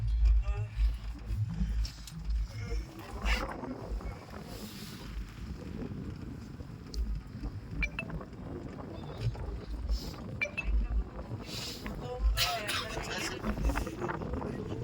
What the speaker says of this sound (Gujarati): અરે પવન જોરદાર